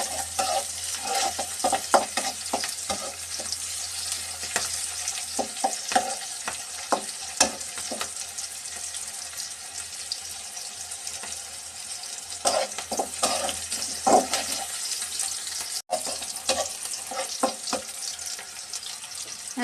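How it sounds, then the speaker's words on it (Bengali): Onion and green chilli fry in a pan, a dense, loud, continuous sizzle with scraping stirs and occasional clatter throughout. "পেঁয়াজটা হালকা বাদামি কালার হওয়া পর্যন্ত অপেক্ষা করব।"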